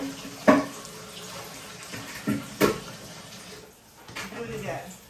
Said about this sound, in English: we're gonna drain once